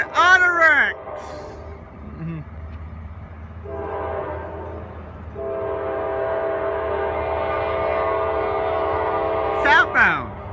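A Norfolk Southern intermodal mixed freight carrying auto racks rolls past at a Georgia lineside, with a steady loud rumble of cars and sharp, sustained horn blasts near the start and again at the end.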